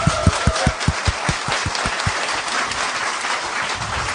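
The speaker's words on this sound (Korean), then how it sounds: "우리 다 같이 박수 한번 칩시다" Studio audience applause on a Korean political talk show, opening with a burst of evenly spaced, rhythmic claps that settles into a steady, dense wash of clapping for the rest of the stretch.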